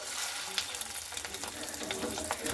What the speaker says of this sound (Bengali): তো সবগুলো আমি এখানে ভেজে নিচ্ছি।